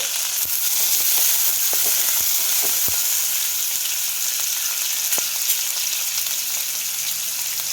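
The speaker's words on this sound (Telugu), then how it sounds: "తర్వాత ఉల్లిపాయలు వేసేసాను. ఈ ఉల్లిపాయలు కొంచెం వేగాలి" Onions frying in hot oil in a kadai give a steady, close crackling sizzle with a few brief clicks of a utensil, and no voices.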